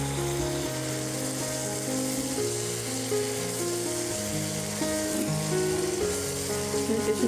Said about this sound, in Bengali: লইট্টা শুটকি কষিয়ে নিচ্ছি ভালোভাবে।